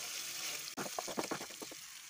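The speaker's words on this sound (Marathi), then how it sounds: "आता यात घालायची 1 चमचा अद्रक लसूणची पेस्ट. हेही छान परतून घ्यायचे." Ginger-garlic paste sautéing in hot oil for mattar paneer, a short close sizzle with a few bursts of stirring scrapes after a brief knock, no talking.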